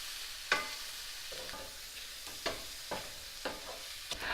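Mushrooms and shallots sauté in butter in a pan, a soft steady sizzle broken by several quiet utensil scrapes and stirring clicks.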